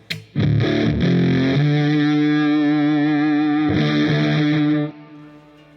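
Electric guitar played through an Analogman BC183 Fuzz Face style pedal, thick distorted chords ringing out loud and sustained, struck twice before the sound cuts off.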